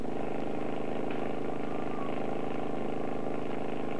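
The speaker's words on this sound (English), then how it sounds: "This information is relayed back to the pump operator, who then increases the engine speed." A pump engine runs during a USGS pump test on the Little Plover River, giving a steady, continuous mechanical drone at moderate loudness as its speed is increased, with no clear rise in pitch.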